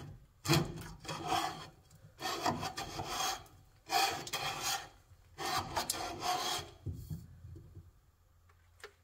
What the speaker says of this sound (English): I've been jamming it down here, scraping the sludge out, because it's totally black in there.